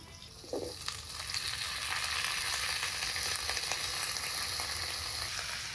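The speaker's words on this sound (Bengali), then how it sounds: "আলুগুলো হালকাভাবে তেলের মধ্যে ভাজা ভাজা করে তারপরে ডোকা পাতাগুলো দেবো" Potatoes and pumpkin leaves fry in oil in a wok for a rice-and-rohu fish curry, a steady close hiss of sizzling that runs throughout, with a brief soft knock near the start.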